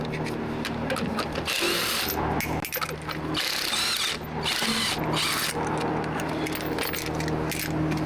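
Wheel coming off a 1995 Jaguar XJ6, a loud, close whirring of a power tool with ratcheting bursts that runs almost without a break, along with some clanking.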